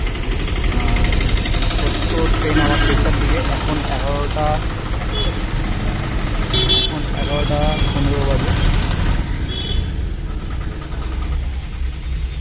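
A bus bound for Mariani idles at Jorhat town, its engine giving a steady low rumble. People talk over the drone throughout.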